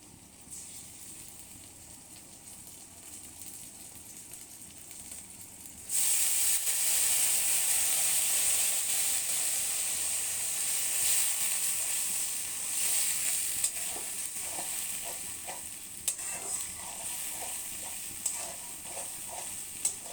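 Spice paste fries in a pan for a country chicken curry, a loud continuous hiss that jumps up partway and carries on, with scraping stirs and small spatters toward the end.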